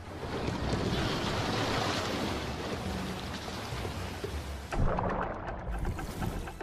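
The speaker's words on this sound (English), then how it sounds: "By the afternoon, a wind ruffles the sea." Wind blows over a choppy open sea with sharks and seals offshore. It gives a constant loud rush of surf and gusty roar, with a heavier wave surge near the end and no voices.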